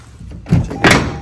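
A car door, repaired after a deer collision, swings shut in two quick dull thunks, close and fairly loud, with no talking.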